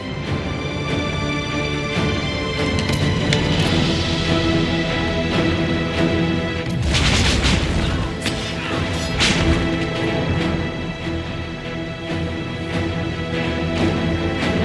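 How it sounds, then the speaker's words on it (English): Energy barrage spell being cast in Dragon Age Inquisition during a fight, heard as a loud, continuous roar of whooshing magic and crashing impacts, with a sharp burst of cracking hits midway. "And then energy barrage again."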